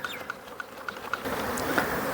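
Himalayan honey bees buzz steadily around hive frames being checked for sealed honeycomb, a dense close hum with individual bees whining past now and then, growing fuller toward the end.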